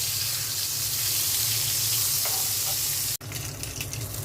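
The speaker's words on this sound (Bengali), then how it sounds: "বেগুন ভাজা হয়ে গেছে," Eggplant slices frying in oil in a pan, a loud, steady close sizzle with a brief break near the end, no talking.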